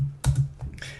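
Several sharp clicks from a computer keyboard being typed on come in a short irregular cluster, close and fairly loud with no talking.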